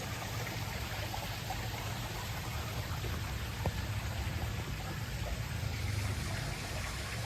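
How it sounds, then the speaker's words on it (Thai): Small waterfall in an old garden at a rustic resort with separate wooden huts, giving a steady, close rush of splashing, trickling water that continues unbroken with no voices. "มีน้ำตกเล็กๆด้วย"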